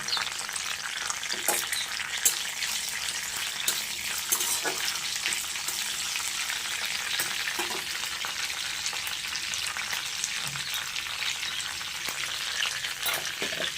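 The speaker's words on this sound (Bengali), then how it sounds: "আর একটু তেল দিয়ে যৎসামান্য কারি পাতাটাকে ফোড়নে দিয়েছি" Curry leaves and mustard seeds sizzle in hot oil in a pan, a steady, dense frying hiss with small crackles and pops running throughout, no voices.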